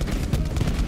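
Dense bursts of gunfire in the Borderlands 3 video game, a rapid rattling fusillade that fills the short moment at close range and loud, with no voices.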